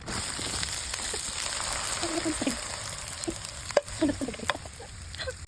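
Dried fish frying in very hot oil outdoors, a close, steady crackling sizzle with scattered pops and spatters, some brief stirring or handling noises, moderately loud.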